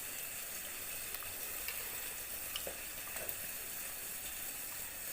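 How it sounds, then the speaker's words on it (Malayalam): Fresh trevally fish fries in a pan, giving a soft, continuous sizzle with faint crackles and pops, fairly quiet and close. "നല്ല ഫ്രഷ് ആയിട്ടുള്ള വറ്റയാണ് ഇട്ട് കൊടുക്കാം"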